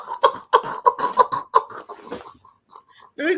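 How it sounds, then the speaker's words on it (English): A string of short, sharp coughs in quick succession, close up, followed by a pause and a brief throat sound. "I keep coughing talking about her."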